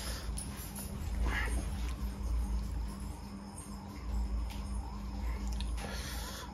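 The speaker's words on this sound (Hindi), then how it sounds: "पुलिस का सायरन आ रहा है कहीं पे" A police siren wails faintly in the distance, rising and falling steadily beneath a constant chorus of chirping insects.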